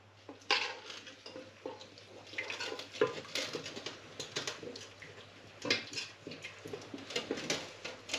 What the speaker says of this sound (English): So I'm just mixing it, and then I'm just making sure that all the feathers are coated